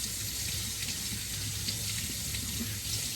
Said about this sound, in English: rinsing, rinsing, rinsing